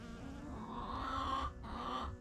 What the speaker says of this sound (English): There's right now I've got bees all over them too.